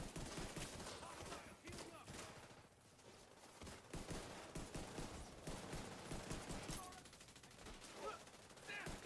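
Gunfire rattles through a Division arena match, with repeated rapid bursts of shots and impacts through the whole stretch while a player talks over the action.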